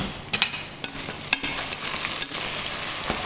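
Ingredients for mint rice fry in a pan, with steady sizzling and a few sharp scrapes and clicks from stirring, close and moderately loud with no talking.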